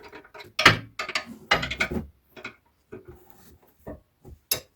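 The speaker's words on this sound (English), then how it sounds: "Use the breaker bar to get them loose." A breaker bar and 15mm socket working loose the rear caliper bracket bolts on a Ford Territory, heard as close, sharp metallic clunks and ratcheting clicks in short bursts separated by quiet gaps.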